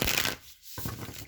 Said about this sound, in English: I'm going to just cut the cards and do it that way